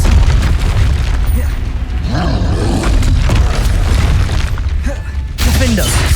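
A Confringo fire spell blast in Hogwarts Legacy, a loud booming burst with a rumbling roar and crackle that swells and fades, followed by a second impact, heavy and close with spell effects layered on.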